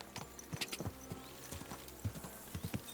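Horse hooves clip-clop along a road in the medieval video game Kingdom Come: Deliverance 2, with steady, evenly spaced hoof strikes at a walking pace, close and clear with no talking.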